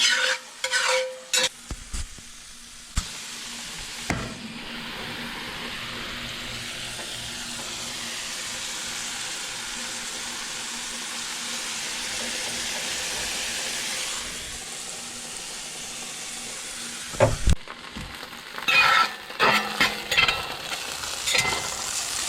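Ostrich ferns and morel mushrooms frying in a pan outdoors, a steady loud sizzle and hiss held for long stretches, framed by clattering stirs and handling noises at the start and end.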